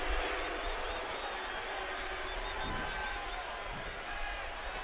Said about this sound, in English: how loud was that crowd today?